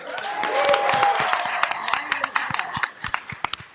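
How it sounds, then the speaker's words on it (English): A crowd at a village board meeting breaks into applause, loud at first with a brief cheer, then thinning into scattered individual claps. "Want to give him a round of applause."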